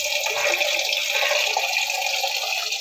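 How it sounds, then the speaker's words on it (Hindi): Leaves being washed under open running water in a cooking pot, a loud close steady splashing and gurgling stream that fills the short clip without talk. "पतीले में डालकर खुले पानी में धोएंगे।"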